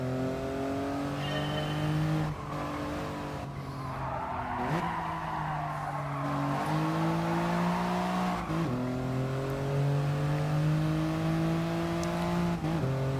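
A Toyota GR Yaris lapping in Gran Turismo Sport, its engine revving up and dropping through gear changes with brief tire squeals, loud and continuous throughout.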